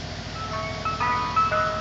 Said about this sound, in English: This is softee ice cream truck.